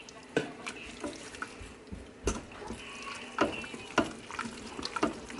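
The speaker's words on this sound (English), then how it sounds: "you just want to stir it up so that the cream cheese will go through it all the way" A spoon stirs cream cheese into creamed corn in a slow cooker, giving soft wet squelches and sharp clinks against the crock at an irregular pace, close up and without talking.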